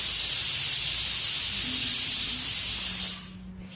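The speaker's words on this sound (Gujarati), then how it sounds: "અને અત્યારમાં જો કુકરની સીટી વાગવા માંડી છે." A kitchen pressure cooker whistle releases steam in a loud, sustained hiss lasting about three seconds, then cuts off abruptly, leaving quiet room sound.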